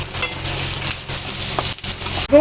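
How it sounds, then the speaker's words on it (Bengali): Whole ginger and garlic lightly frying in hot oil, a close, steady sizzle with a few small clinks and scrapes of stirring. "আর দেব এই আদা আর রসুনটা দিয়ে দেবো এর মধ্যে, গোটা গোটাই দিয়ে দেব। দিয়ে এটাকে হালকা করে ভাজবো"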